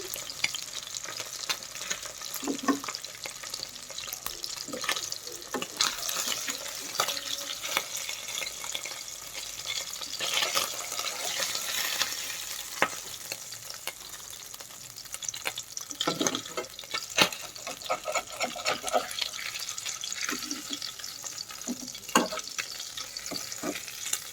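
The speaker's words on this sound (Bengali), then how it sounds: "দেখেন আমার মাছগুলো ভাজা হয়ে গেছে, এখন আমি উঠিয়ে নিচ্ছি" Steady crackling sizzle of pabda fish frying in hot oil, with occasional stirring clatter, close and continuous.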